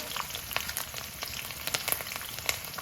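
Ingredients for masala puffed rice snack (borugulu) frying in a pan, a close steady sizzle with sharp crackles and pops, no voices.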